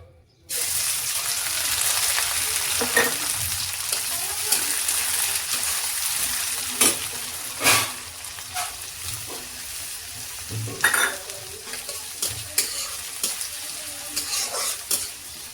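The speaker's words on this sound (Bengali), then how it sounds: "পেঁয়াজ রসুনটা একটু ভালো করে ভাজা ভাজা করে নিচ্ছি।" Chopped onion and garlic sizzle loudly in a pan, with a steady frying hiss broken by repeated scraping stirs and occasional clacks of a spatula, up close and without talk.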